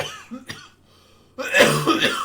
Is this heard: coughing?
yes